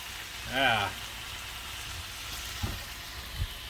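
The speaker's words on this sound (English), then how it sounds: "I might let those onions in there just kind of saute a little bit longer" Onions and ground bison sauté in a pan with a low, steady sizzle. A brief voice sounds early on, and a couple of soft utensil knocks follow.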